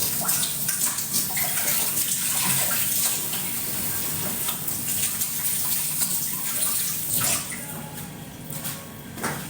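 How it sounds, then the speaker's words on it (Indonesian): Running tap water washes over hands at a sink, a steady close gushing spray that carries on for the whole stretch with small splashy changes and no talking. "Aku cuci tangan dulu."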